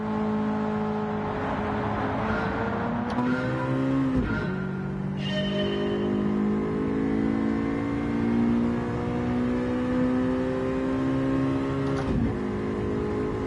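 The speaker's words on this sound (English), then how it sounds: "Always love high revving engines." A high-revving car engine in a racing video game climbs and drops through gear shifts, the pitch sweeping upward then snapping down several times in a steady, loud whine.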